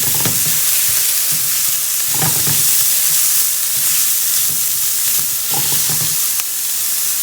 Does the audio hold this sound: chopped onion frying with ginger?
yes